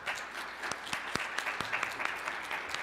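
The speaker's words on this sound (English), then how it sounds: "let's give one more round of applause for Dr." An audience at a music lecture gives a moderate round of applause: a steady patter of clapping with a few sharp, distinct claps near the listener.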